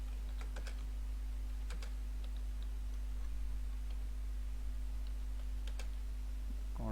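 Typing on a computer keyboard, with sparse, distinct key clicks in small bursts over a steady low electrical hum.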